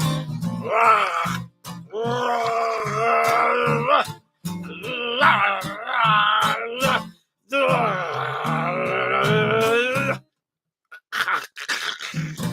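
A voice imitates a zombie scat singing, a run of groaning, moaning vocal phrases in bursts with short gaps, near and fairly loud.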